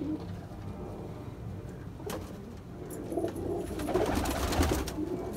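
Golden pigeons coo softly and repeatedly amid steady background hiss, faint and somewhat distant, with low murmuring coos building toward the end.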